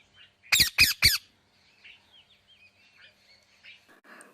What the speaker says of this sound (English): Let's listen sound of parrot.